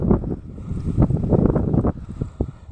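Strong wind buffets the microphone on an outdoor trip home, a loud continuous roaring rush with gusting surges and low rumble, a faint voice briefly audible beneath.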